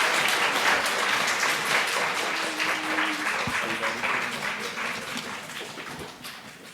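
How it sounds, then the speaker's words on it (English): Steady applause from a school audience for geography bee competitors, a dense even patter of many hands that holds at a fairly constant level and tapers slightly toward the end. "So let's give everyone else a round of applause"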